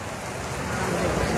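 Heavy rain pours over the streets of Sylhet city, a dense, steady hiss of drops hitting the surfaces nearby that holds even throughout the short stretch.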